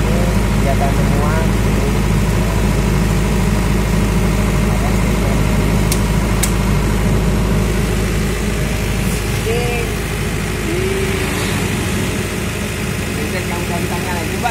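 A generator set engine runs loud and steady nearby, a continuous low diesel rumble with vibration throughout, while people talk over it at times.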